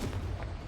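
A Confringo fire spell bursts in Hogwarts Legacy, a single heavy boom with a rumbling low-end tail, loud and close, with no talking.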